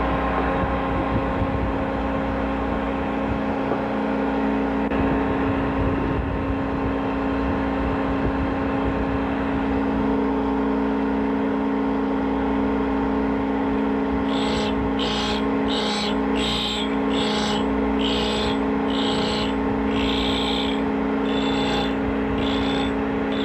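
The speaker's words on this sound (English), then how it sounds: "Let it grind until it sparks out." A machine grinding a countersink on a cam-driven grinder, a continuous loud motor hum and whirring with a rhythmic series of sharp pulses partway through as the grinding runs on until it sparks out, no speech.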